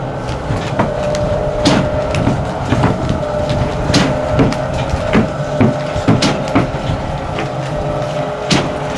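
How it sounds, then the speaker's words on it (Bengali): A die cutting machine runs continuously, a loud mechanical drone with regular knocking impacts and clattering strokes repeating throughout. "আরে এই যে ডাই কাটিং চলতেছে, ডাই কাটিং চালাইতেছে, মেশিন চালাইতেছে।"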